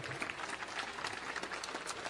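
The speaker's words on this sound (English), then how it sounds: "Let's give the family a round of applause" Rally crowd clapping for a family, a dense burst of applause that stays steady and fairly close, with scattered sharp individual claps and faint crowd murmur mixed in.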